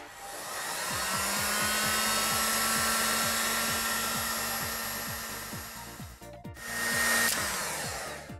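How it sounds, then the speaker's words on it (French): Heat gun blowing hot air onto a solder-seal wire connector during a car brake warning light repair: a loud, steady whooshing blower with a motor whine, briefly cutting out near the end and then resuming. "Je chauffe avec un décapeur thermique."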